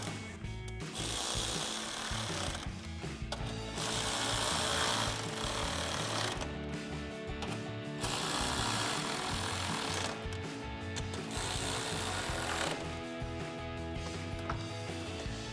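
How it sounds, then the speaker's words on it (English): A ratchet with a 10mm socket tightens marker light bolts on a Ford F-150, making four loud, close bursts of gritty mechanical whirring separated by brief gaps. "And then we'll tighten those down with a 10mm socket."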